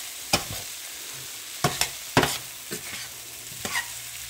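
A spoon scrapes and knocks against a pot while stirring rice for Arabian Gulf kabsa, a few sharp clunks spread over several seconds above a soft, steady sizzle of cooking.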